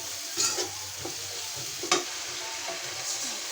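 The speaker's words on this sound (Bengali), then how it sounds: "পানি দিয়ে মশলাটা ভালো করে 5 মিনিট কষিয়ে নেব।" A spice paste of turmeric, chilli and onion fries in a pan with a steady, close sizzle, broken by a few soft stirring scrapes, with no voices.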